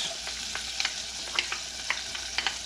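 Caramelized onions, crushed garlic and minced ginger sizzle together in a hot pan, the frying hiss overlaid with several sharp clicks and scrapes of stirring.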